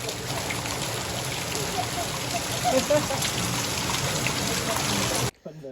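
Steady rain pouring down close by, a dense continuous patter that stops abruptly near the end.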